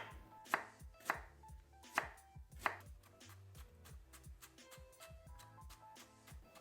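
Ginger being chopped at an angle with a knife on a cutting board: a few crisp, evenly spaced thuds at first, then a quicker run of lighter taps, close and fairly quiet, with no voices.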